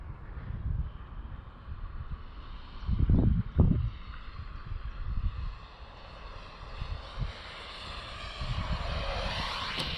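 An RC jet-turbine Avanti model aircraft comes in to land in a crosswind, its turbine whine rising steadily throughout. Wind buffets the microphone with low rumbling gusts.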